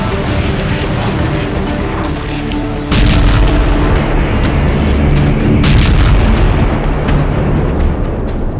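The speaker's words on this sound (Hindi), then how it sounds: "इजरायली सेना लगातार हवाई हमले कर रही है।" Israeli air strikes set off heavy, continuous booming explosions, a loud, dense roar with a sharper blast about three seconds in and crackling bursts after it.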